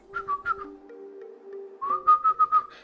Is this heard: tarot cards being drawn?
no